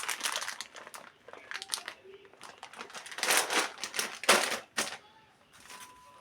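A plastic bag of pasta crinkles and rustles in close, irregular bursts as it is handled, with someone talking softly between the sounds.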